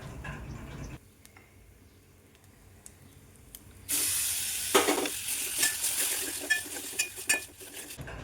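Sudden loud sizzle as mashed eggplant hits a hot pan of oil with spices and a pinch of turmeric for bharit, following a quiet stretch, with stirring scrapes and crackles continuing close by.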